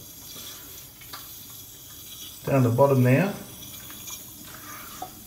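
Water flows and trickles steadily through the cistern of a leaky toilet, a soft continuous rush heard close by, with someone speaking briefly over it partway through.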